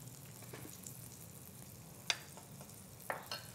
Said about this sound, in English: As the green tomatoes are cooking